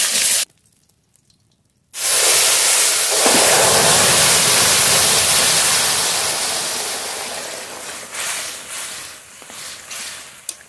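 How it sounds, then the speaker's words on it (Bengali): Curry poured into a pan of hot oil tempered with bay leaf, radhuni and cumin, letting out a sudden loud hissing rush that slowly settles into a steady sizzle, close up. "এবার তরকারি ঢেলে দেবো।"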